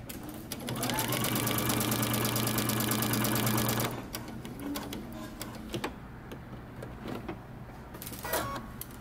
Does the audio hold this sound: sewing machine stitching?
yes